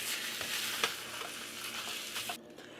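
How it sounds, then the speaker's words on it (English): Meat browns in a frying pan, a steady hissing sizzle with a few quick scraping stirs of a utensil. It is close and fairly quiet, with no talking. "I'm going to stir every few minutes, but all I'm trying to do is break this up and brown it."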